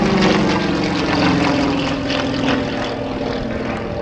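A Yak propeller aerobatic plane flown by Josh Wilson trailing smoke at the 2009 Dover AFB airshow, its engine droning loud and steady with a gritty buzzing roar as it passes.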